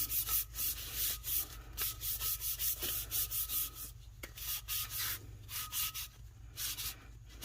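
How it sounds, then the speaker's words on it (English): Mica powder rubbed by hand onto a tacky black epoxy base on a tumbler, making a steady close rubbing and brushing sound in quick repeated strokes over a low constant hum, with no talking. "Alright, so I'm going to just rub this down."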